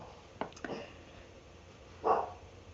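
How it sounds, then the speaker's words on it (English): Small dogs bark in a home, a couple of quick yips close together followed by a single louder bark after a pause, against a quiet background. "He's probably listening to these little doggies starting to bark right now."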